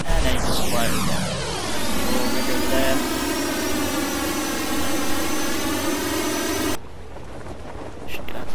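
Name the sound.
hijacked plane flying in video game Just Cause 2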